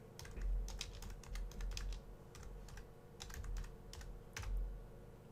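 Quick, uneven keystrokes clatter on a computer keyboard while commands are entered during a software setup, the clicks close and fairly soft in a quiet room.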